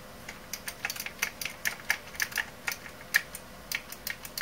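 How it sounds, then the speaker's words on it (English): Typing on a mechanical keyboard with mechanical key switches produces crisp, close clicky keystrokes in an uneven, steady rhythm heard alone. "This is a mechanical keyboard."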